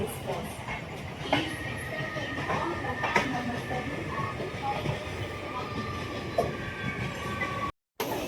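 A Mumbai suburban local train rumbles steadily along the tracks with faint clicks and squeals, heard from inside a carriage amid low background chatter.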